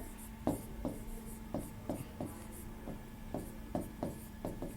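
Chalk or marker scratches across a board during a biology lecture, a series of short rhythmic strokes and taps, fairly faint, with no talking during the writing.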